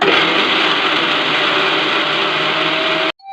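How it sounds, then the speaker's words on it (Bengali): Electric blender whirring steadily and loudly while blending cocoa powder into a smooth ice cream batter, running continuously before cutting off abruptly. "এরপর এটাকে আমি ভালোভাবে ব্লেন্ড করে নেব, পুরো স্মুথ ব্যাটার বানিয়ে নেব।"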